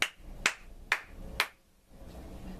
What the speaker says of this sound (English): What about if I clap?